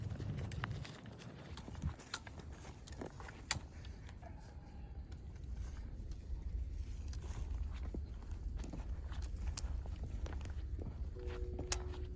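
Footsteps crunch along outdoors in South Texas at a steady walking pace, each step a short tap over a low rumbling background with occasional faint clicks.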